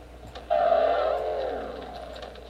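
Turbo car engine in the video game Enviro Bear 2000, a sudden loud whining rev that holds for a moment and then slowly fades.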